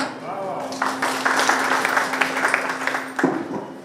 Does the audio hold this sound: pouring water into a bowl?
no